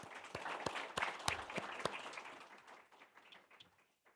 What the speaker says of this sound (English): Let's give Emma Waters another round of applause.